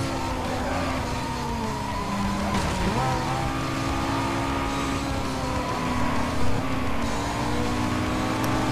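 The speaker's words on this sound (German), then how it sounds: "der überholt mich der Mustang von innen" A Ford Mustang overtakes in the racing game Need for Speed Most Wanted: a steady, dense engine drone with a brief pitch dip midway, continuous and moderately loud, with no talk.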